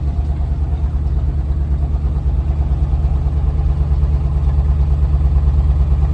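1966 Jeep Gladiator with a 327 Vigilante V8, pulled from a junkyard and on the road for the first time in 21 years, running with a steady, deep low rumble, close and continuous with no talk.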